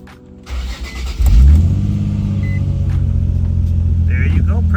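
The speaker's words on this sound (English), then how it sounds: "Start up the car." A car engine cranks and catches after an oil pressure sensor fix, settling into a steady, loud idle rumble close by while a person talks over it.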